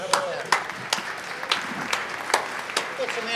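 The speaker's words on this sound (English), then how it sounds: "Give yourself a round of applause." Scattered audience applause at a church arts gathering, a modest crowd clapping with distinct sharp claps in an uneven rhythm, fairly soft and somewhat distant, with faint voices mixed in.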